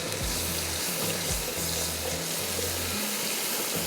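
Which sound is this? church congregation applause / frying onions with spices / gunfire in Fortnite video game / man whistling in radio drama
frying onions with spices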